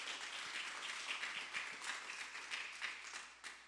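Faint, steady applause from an audience at a Haitian American elected officials' gathering, a continuous wash of many hands clapping from a distance with no talk over it.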